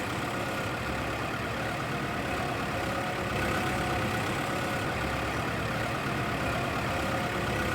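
Tractor engine in Farming Simulator 25 running steadily and loudly throughout, a continuous mid-to-low rumble with a slight rise in intensity partway, no talk over it.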